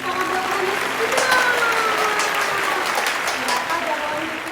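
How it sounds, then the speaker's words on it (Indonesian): Applause at an online children's church service, a sustained, fairly loud patter of clapping that holds steady throughout, with faint tonal traces of music or voice lingering underneath. "kasih tepuk tangan buat Tuhan Yesus kita"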